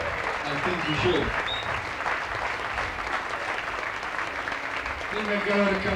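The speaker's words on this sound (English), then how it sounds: "Keep on clapping your hands" Audience applause at a live concert in Amsterdam fills the whole stretch, a steady dense clapping with a voice speaking over it near the end.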